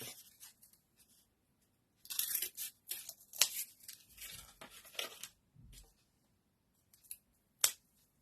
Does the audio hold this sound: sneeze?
no